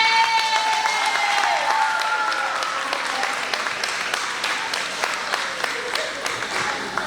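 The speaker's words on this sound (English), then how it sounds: "So I want to give a huge, resounding round of applause to Adam A." A crowd at a school's year-end final ceremony applauds loudly and steadily, with dense overlapping claps, a few sharp individual claps, and some raised voices or whoops mixed in, tapering slightly toward the end.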